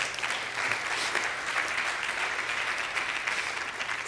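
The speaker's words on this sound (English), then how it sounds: "I think that's worth an applause," Sustained applause from a London conference audience, a broad, even roar of many hands clapping at moderate distance with no speech over it.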